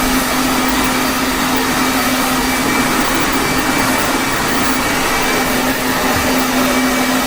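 Hair dryer running steadily after a haircut, a loud continuous airy whoosh with a constant hum, close and unbroken throughout with no talking.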